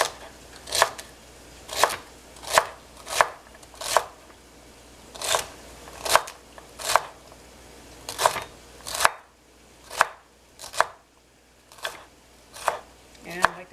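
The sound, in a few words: knife chopping celery into small pieces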